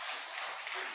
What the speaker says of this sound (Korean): 이제는 알아서 박수도 나오고